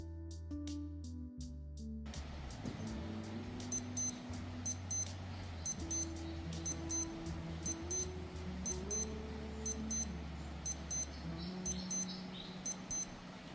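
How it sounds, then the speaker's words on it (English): Skmei 1960 wristwatch alarm beeping in rapid little clusters of high electronic beeps, repeating roughly once a second, fairly faint and thin over a low, steady background tone. "It's not the loudest alarm out there, but for everyday reminders, it should get the job done"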